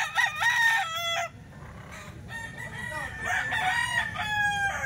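Young rooster (stag) crowing loudly and close in rain, several drawn-out crows in quick succession, with steady rainfall and faint background noise underneath.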